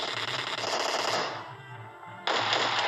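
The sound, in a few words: shotgun shots in a battle royale video game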